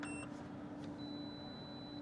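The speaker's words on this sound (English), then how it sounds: "I hear it beep, fire up" A campervan power system switching on gives a short high electronic beep at the start and a thin steady tone later, faint over a low hum.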